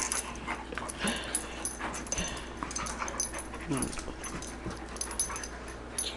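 Poodle puppy at play whimpering and panting in short bursts, with people talking nearby over a busy background.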